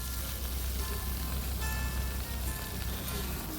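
Green chillies frying in a pan, giving a steady, close, hissing sizzle that continues without a break.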